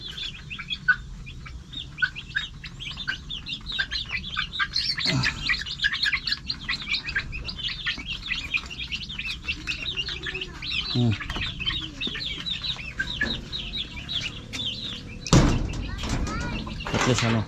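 Chickens and chicks in a yard, with many chicks peeping continuously and hens clucking at moderate distance, a few louder flurries, and people talking now and then.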